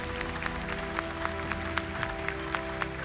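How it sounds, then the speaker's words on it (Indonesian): A studio audience claps for five contestants on a televised hafiz competition, a steady wash of applause with sharp individual claps standing out over a sustained musical tone. "Boleh tepuk tangan untuk 5 peserta untuk hari ini."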